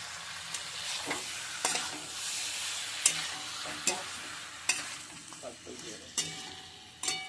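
Marinated chicken frying in a pan with cumin powder, ginger paste and garlic paste, a continuous close sizzle broken by several sharp stirring scrapes.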